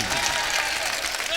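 Audience clapping at an All India Mushaira poetry gathering in Bahjoi, Uttar Pradesh: dense, steady applause from a large crowd filling the whole moment, with no pause.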